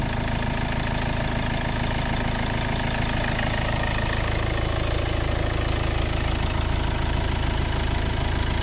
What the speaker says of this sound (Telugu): ఇంజన్ బీటింగ్ ఒకసారి వినండి